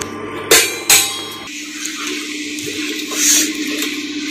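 A utensil knocks twice against a pot of milk being stirred for caramel payesh, two sharp clanks early on, followed by softer scraping and liquid sloshing close up.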